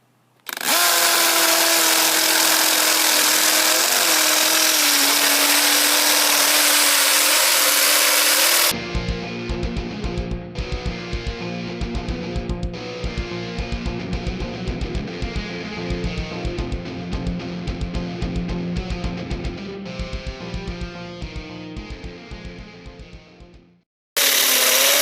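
A loud hammer drill whines at high speed, then switches to a rapid hammering chatter as it bores steadily into concrete for several seconds.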